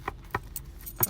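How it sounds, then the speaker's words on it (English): Brief metallic jangles from a bunch of keys, a few separate light shakes close by with quiet gaps between them. "You see these keys?"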